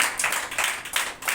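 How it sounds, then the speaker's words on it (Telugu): Worshippers in a church congregation clap their hands together in a steady rhythmic beat during a Sunday service, the claps close and sharp with no voices over them. "చప్పట్లు కొట్టి ప్రభు."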